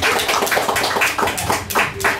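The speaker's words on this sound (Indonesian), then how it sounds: "aku pengen kasih tepuk tangan dulu dong" Hand clapping applause from a group: dense, steady clapping that continues through the whole stretch at fairly close range, with no voices over it.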